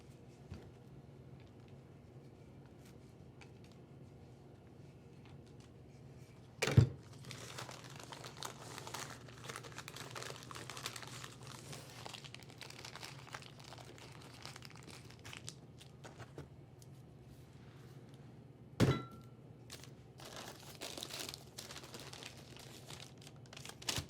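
A plastic bag crinkles as it is rolled side to side and filled with pollen patty mix, soft continuous rustling with two sharper crackles along the way, close up and with no talking.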